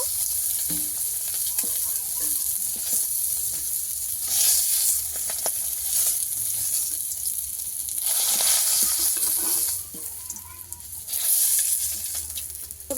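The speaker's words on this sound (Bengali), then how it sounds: "এই মাছগুলোকে আমি একটু ভালো করে ভেজে নেবো লাল করে" Pieces of fish fry in hot oil in a pan, a steady close sizzle with surges as they are turned, and a few faint clinks from stirring.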